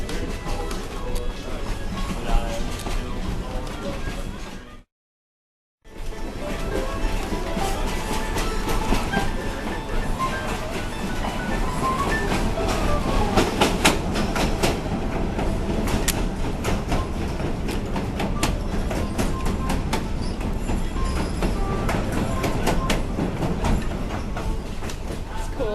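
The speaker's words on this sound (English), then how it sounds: "Go on a train right over the river." A passenger train running along rails over a river, giving a steady, continuous rumble of wheels and carriage noise with faint clickety-clack, briefly cut off near the start, then carrying on loud and close throughout.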